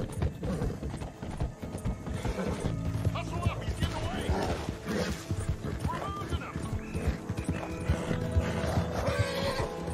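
A horse gallops at full speed in the video game Red Dead Redemption 2, its hoofbeats a steady, loud clip-clop with an occasional whinny, under a person talking and a dense wash of game sound.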